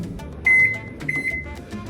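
A small, low-powered microwave oven heating frozen pupusas gives two pairs of bright electronic beeps, the pairs close together, over faint room hum.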